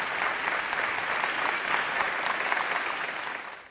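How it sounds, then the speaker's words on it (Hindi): Audience applause at the opening and award ceremony of an Urdu festival gathering, a full, even round of clapping from a large crowd that holds steady and then tapers off at the close. "आप सभी से गुजारिश है कि अपनी भरपूर तालियों में उन्हें अपनी मोहब्बतों से नवाजिए"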